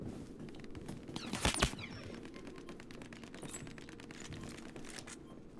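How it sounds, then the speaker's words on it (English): Rapid gunfire in Star Citizen's Star Marine mode, fast rattling bursts of shots with a louder close burst early, then continuing quieter and more distant crackling fire. "I hear a lot of shots being fired."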